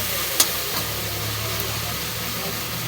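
Garlic, onion and tomato sauté for a Filipino ginisang pechay, a steady close sizzle with stirring and a sharp utensil clank near the start, no voices over it.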